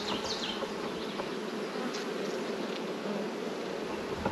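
Honey bees buzzing steadily at a hive where nectar is being stored in the honey super, a dense continuous drone from many insects close by, with no talk.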